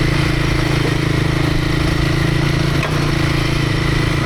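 Royal Enfield Himalayan 450 riding sandy singletrack in Michigan, a steady loud close engine drone with a continuous low hum and a brief dip midway.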